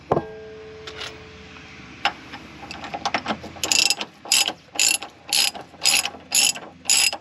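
A hand ratchet clicks in short rhythmic bursts while loosening the upper shock bolt on a Ram Promaster van, close and loud, with a few clunks before the repeated ratcheting strokes and no talk.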